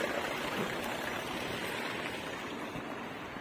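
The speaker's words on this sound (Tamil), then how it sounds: "மழை வேற லைட்டில் தூத்துல போடுது" Light rain patters in a soft, steady hiss throughout, fairly close and unbroken, with no voices.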